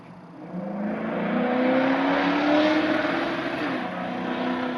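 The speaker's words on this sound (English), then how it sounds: "I don't know if you could hear that car." A car passes outside, heard from indoors as a muffled engine hum that swells and fades over several seconds with no talking.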